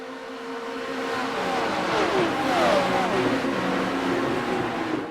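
A field of 34 Porsche Cup race cars circulating at the Mexico round of the Boost Cup series, engines droning and rising together in a steady, loud mass while a voice commentates over them.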